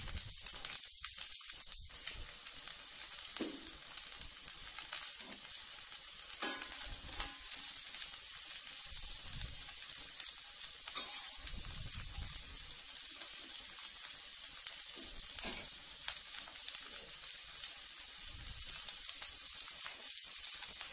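Onions sautéing in a pan for a stir-fried onion dish give a steady, close frying sizzle with occasional stirring scrapes and small pops, running throughout with no talking.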